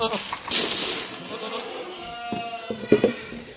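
Goats bleating at feeding time in a farm pen, several short calls coming in bursts toward the end over a steady background rush, with a voice speaking briefly.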